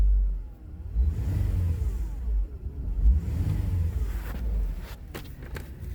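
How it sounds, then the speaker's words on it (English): A 2010 Chevrolet Traverse freshly back together after a timing chain repair, its engine revved in several close, loud surges that climb and fall back toward idle, with no voices over it. "let me hit the gas real quick to see what it sounds like."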